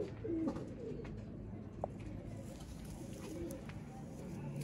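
A breeding pair of pigeons, a female and a male, coo softly at close range amid a low background murmur, with faint voices and a brief sharp click.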